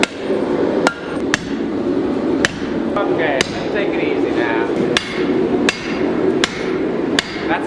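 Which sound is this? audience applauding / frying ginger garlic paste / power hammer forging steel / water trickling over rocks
power hammer forging steel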